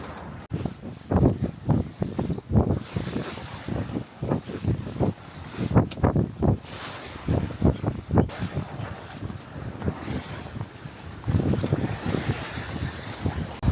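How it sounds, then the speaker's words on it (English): Wind buffeting a microphone aboard a sailboat sailing at night off Normandy, loud gusty rumbles and thumps in rapid uneven pulses, close and continuous with water rushing beneath. "It's annoying when you get the wind in your ears."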